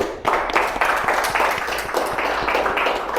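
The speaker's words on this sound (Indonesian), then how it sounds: "Kasih tepuk tangan dulu." Applause from a classroom of students, a dense steady patter of many hands clapping, loud and close, running throughout.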